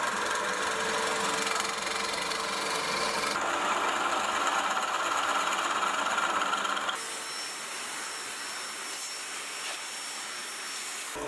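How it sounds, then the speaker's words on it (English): Aluminium being drilled out and tapped for M10 threads on a vintage machinist die filer build, a continuous close machine whir that drops to a quieter, steadier tone partway through. "I then drilled out the aluminium and tapped it for M10."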